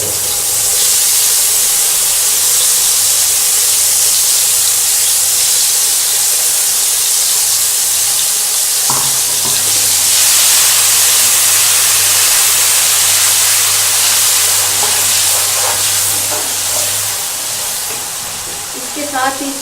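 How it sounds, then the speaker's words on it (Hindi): Spinach saag being fried in a pan gives a loud, continuous close hiss and sizzle with faint stirring touches along the way. "इसे थोड़ा सा भूनेंगे।"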